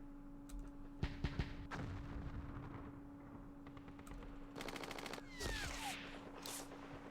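Mortars fire in the Campaign Series Vietnam war game at Dien Bien Phu: several sharp, fairly near bangs, with a short burst of rapid reports later, all over a steady background hum.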